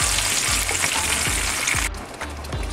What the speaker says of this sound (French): Je vais ajouter ma purée de tomates. Laissez mijoter pendant 2 petites minutes